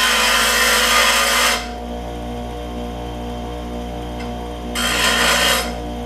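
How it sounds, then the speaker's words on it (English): A bench grinder grinds down the valve from a 5hp Briggs and Stratton generator engine. Two loud, close bursts of harsh grinding sit over the steady motor hum, with the hum running on alone between them. "I just use the bench grinder."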